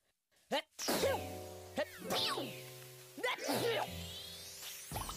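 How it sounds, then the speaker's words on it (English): Three cartoonish sneezes in a row, each preceded by a quick rising breath, over light background music. "She's gonna sneeze three times!"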